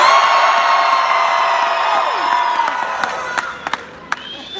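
A crowd at a haunted-attraction announcement event screams and cheers in a loud, sustained roar that tapers off over a few seconds, leaving scattered whoops and claps at the end.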